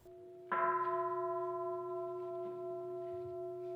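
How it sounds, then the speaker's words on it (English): A temple gong is struck once at a Buddhist service, a clear metallic strike followed by a long, sustained humming ring that slowly fades. "The ringing of the gong signals the beginning and end of Buddhist service."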